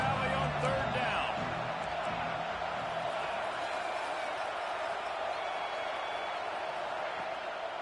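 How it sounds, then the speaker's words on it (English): A huge college football crowd in Happy Valley roars on a third down during Penn State against Tennessee. The broad, sustained crowd noise sits under a broadcaster's voice at the start. "Here comes the noise from this big crowd in Happy Valley on third down."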